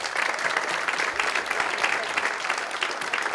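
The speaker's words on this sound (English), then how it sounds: "Keep the applause going for the Progressive Democrats who put all of this together today." Audience applause at a congressional candidate forum, a steady wash of many hands clapping at moderate volume throughout, with no voices standing out.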